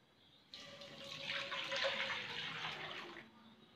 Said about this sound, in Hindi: सबसे पहले हम कढ़ाई में दूध डालेंगे।